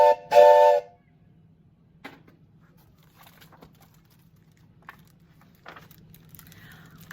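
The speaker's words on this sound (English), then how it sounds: "The Polar Express let out a loud blast from its whistle" A steam train whistle gives one loud, short blast, then fades into a quiet stretch with faint scattered sounds.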